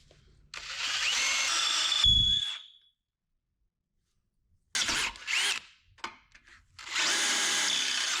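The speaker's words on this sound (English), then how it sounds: "I might have to drill a pilot hole, but we'll see how this thing drills." A power drill with a freshly sharpened bit boring a pilot hole during a Jeep Wrangler TJ rebuild, high whining bursts starting and stopping with a silent pause between runs, close and loud.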